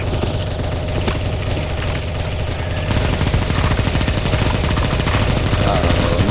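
Rapid bursts of gunfire from a CS:GO zombie escape match on the Silent Hill map, continuous and dense, growing louder and busier about halfway through.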